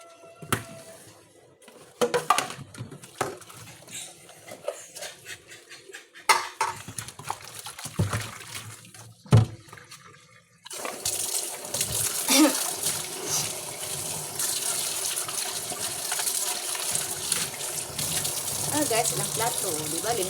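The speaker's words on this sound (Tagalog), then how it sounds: "Limpyo ka na ilang plato." Plates are washed at a sink: intermittent clinks and clatter of dishes and cutlery come first, then a steady gush of running tap water continues close up.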